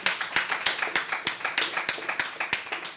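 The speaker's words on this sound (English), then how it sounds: "can y'all give her a clap of hand?" A small audience clapping hands at the close of a podcast, loose overlapping claps in a fairly steady rhythm, close and moderately loud with no talk over it.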